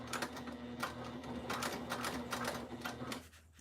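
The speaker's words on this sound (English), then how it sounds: "I'm just sewing it straight with the main seam allowance, the full seam allowance" Sewing machine stitching a straight seam on a wristlet at full seam allowance, a steady fast mechanical whirring and clatter close by that stops near the end.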